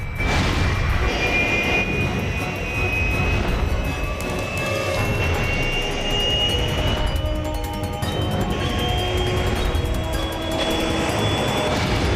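An airplane engine drones loudly and steadily throughout, with a rising whine over a continuous rumble, like being aboard an aircraft during takeoff.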